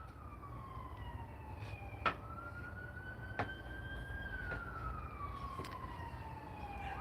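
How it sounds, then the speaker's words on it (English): A distant siren wails in long, slowly rising and falling tones over low background rumble, with a couple of faint clicks. "Sounds like- yeah, that's an ambulance."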